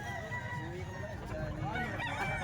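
Roosters at a cockfighting farm in Calumpit crow and cluck in a dense mix of overlapping calls, moderately near, with a voice murmuring faintly underneath.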